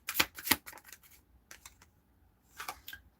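A deck of tarot cards is shuffled close up, with crisp riffling bursts at the start, a few scattered flicks, then another short riffle. The sound is fairly quiet and there is no talking over it.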